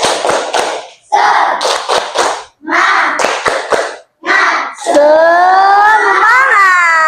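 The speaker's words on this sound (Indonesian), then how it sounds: "Sekali lagi, tepuk semangat." A class of children doing a rhythmic spirit clap led by their teacher, sharp group claps in short rhythmic bursts alternating with loud chanting voices, ending in a long sung shout.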